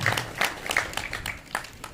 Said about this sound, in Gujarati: એમના માટે એક વખત જોરદાર તાળીઓ